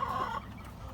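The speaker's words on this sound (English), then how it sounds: "that definitely cut the crowing in half, and it's still obnoxious" A rooster crows at close range, a single loud, strained call that fades out partway through, with the crow noticeably shortened and still harsh.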